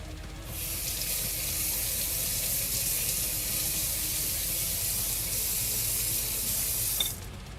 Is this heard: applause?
no